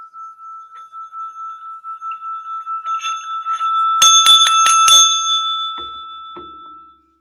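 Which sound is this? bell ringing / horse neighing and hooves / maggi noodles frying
bell ringing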